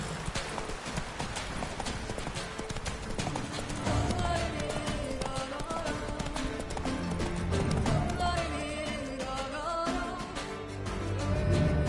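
Hooves of Roach, a horse in the video game The Witcher 3: Wild Hunt, galloping in a steady clip-clop rhythm under continuous game music, close and moderately loud throughout.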